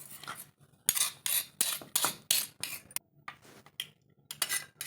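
Gongura chutney with red chillies being ground by hand, a series of rhythmic, close scraping and grinding strokes, each a short gritty burst with brief pauses between them.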